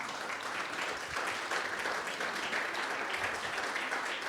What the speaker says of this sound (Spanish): Vamos a dar un aplauso a las hermanas.